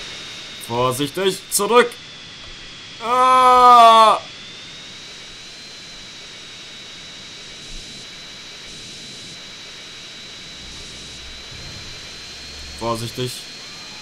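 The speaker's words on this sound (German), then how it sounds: "Oh, dieser Düsenjet ist so laut." A steady, whining jet engine roar from a jet in the video game GTA San Andreas hums in the background while someone speaks in short bursts over it.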